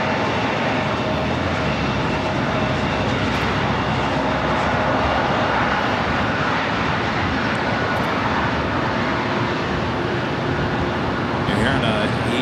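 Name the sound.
E-jet airliner taxiing at LAX airport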